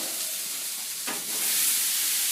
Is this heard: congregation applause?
no